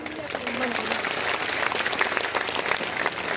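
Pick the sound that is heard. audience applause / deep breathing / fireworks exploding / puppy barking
audience applause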